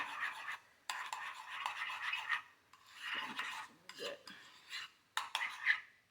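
Burger sauce with seasoning and pepper being mixed in a bowl, heard as close, uneven scraping and clinking strokes in short bursts with brief pauses, no talking.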